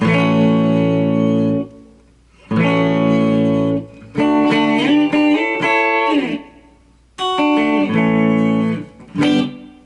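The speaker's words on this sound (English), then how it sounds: "Just a nice basic little reverb there." Electric guitar chords strummed in short phrases through a Strymon blueSky reverb pedal on its room setting, each ringing out with a gentle room reverb tail before brief pauses.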